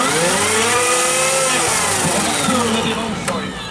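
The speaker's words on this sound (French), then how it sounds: "Et là, magnifique la moto. Faire chauffer le pneu." A trial motorcycle's engine revs hard and holds high to heat the tyre at an indoor/outdoor trial event, loud and close with wavering pitch that dips near the end.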